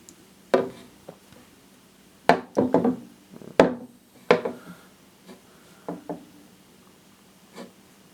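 A sealed pine wooden hide set down inside a baby red tail boa enclosure, giving a series of sharp wooden knocks and scuffs at irregular intervals, close and fairly quiet, with no voices.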